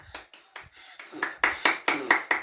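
A few people clap by hand after birthday candles are blown out at a home party, about ten sharp separate claps in a loose, quickening rhythm, close and clear, with no one talking over them.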